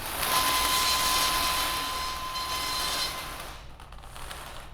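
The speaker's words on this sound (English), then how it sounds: "Bingo hopper." A bingo hopper mechanism turning, a continuous clattering, ratcheting whir with a faint steady tone, loud at first, then easing and thinning out near the end.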